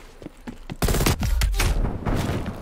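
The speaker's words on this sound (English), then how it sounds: "That shotgun." Shotgun fire in Call of Duty Cold War, heard as a burst of loud, close blasts with heavy low thumps, following a few softer earlier shots.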